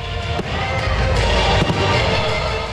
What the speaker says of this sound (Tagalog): Agaw pansin ang fireworks na ito na mistulang mga pulang alitap-tap.